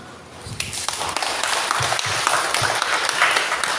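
Congregation clapping at a church service, a dense, steady patter of hands filling the room throughout with a few sharper claps standing out near the front.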